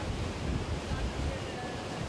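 Ocean surf rolling onto a South African shore, a steady broadband wash of breaking waves with low rumble and wind buffeting the microphone, continuous and fairly close.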